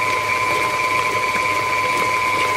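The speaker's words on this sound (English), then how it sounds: "You add them one at a time and let the mixer go." An electric mixer beats chocolate sour cream cake batter with a loud, steady mechanical whir and a constant tone, close up and continuous throughout, with no talking.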